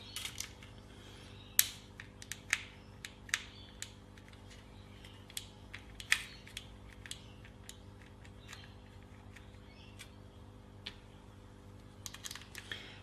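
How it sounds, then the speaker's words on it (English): Small metallic clicks and ratcheting ticks from screws being undone to pop open an electronic device, scattered irregularly over a steady low electrical hum, fairly quiet and close. "I've got to undo the extra 4 screws up there, I guess, and pop it completely open"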